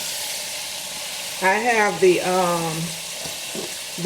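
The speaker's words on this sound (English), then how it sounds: "I'm just going to brown this meat." Ground meat browning in a pan for homemade spaghetti meat sauce, giving a steady, close sizzle and hiss throughout while a voice speaks briefly over it.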